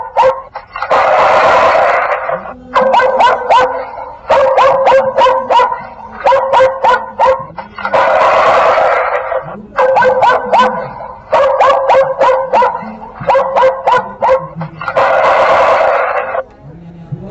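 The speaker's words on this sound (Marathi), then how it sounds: "अशा प्रकारचे आवाज आपल्याला ऐकू येतील। कुत्र्याच्या आहेत" A solar-powered animal-repeller speaker blares recorded dog barking in loud, repeating bursts. Rapid barks alternate with longer, harsher bark-like sounds in a steady electronic loop.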